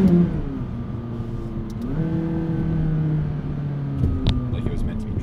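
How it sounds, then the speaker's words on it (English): A McLaren sports car accelerates: a steady engine drone with tones that climb and shift with the gears, heard from inside the car under ongoing talk. "Daily driving my McLaren."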